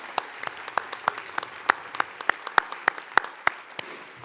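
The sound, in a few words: audience clapping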